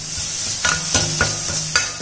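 Leftover vegetable pulp from soap noodle batter being sautéed in a pan, a steady sizzle broken by four or five distinct scraping stirs at irregular intervals, close and fairly loud with no talking.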